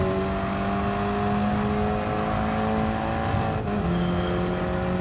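Race car engine from the Crossbow in Gran Turismo Sport, a steady loud drone at a sustained high pitch that dips as it shifts gear near the end, with no talk over it.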